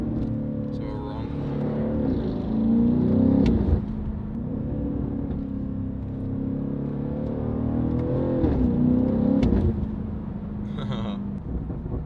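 BMW M550i with a Valvetronic Designs valved sport exhaust, valves open, rumbling and burbling on overrun near 2,000 rpm, loud and steady with rising and falling engine tone and sharp cracks on shifts.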